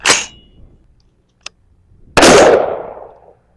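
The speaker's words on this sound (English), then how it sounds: "Shooting, still got some of these weird hollow point target rounds from Winchester." Loud shot from a 300 Blackout rifle firing Winchester hollow point target rounds, a sharp crack at the start, a faint tick, then a second booming shot with a long decaying echo, no talk.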